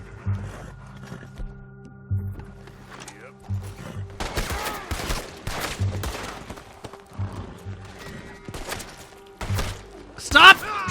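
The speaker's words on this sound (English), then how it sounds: "Stop shooting me!" Gunfire in Red Dead Redemption 2, a scattered fusillade of sharp shots and thuds trading back and forth in bursts, mixed with in-game clatter and voices, growing busier and louder toward the end.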